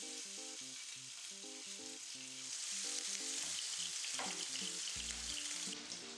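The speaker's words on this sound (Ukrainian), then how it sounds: "на вогні нагрівається сковорідка з олією" Sliced sausage frying in hot oil in a pan for a sausage and pumpkin soup, giving a steady, close sizzle that swells slightly partway through, with background music and no talking.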